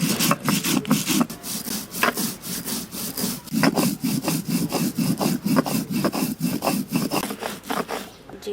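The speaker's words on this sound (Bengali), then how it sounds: "প্রথমে কটা জিরা বেটে নেব।" Cumin seeds are ground by hand on a grinding stone in a kitchen, producing a close, loud, rhythmic rasping scrape in rapid repeated back-and-forth strokes.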